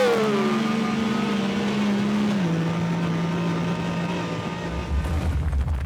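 A 2024 Yamaha YXZ 1000R side-by-side with Sport Shift paddle shifting, using launch control: a high engine note sweeps down, then holds a steady tone before a deeper rumble swells near the end, loud and close.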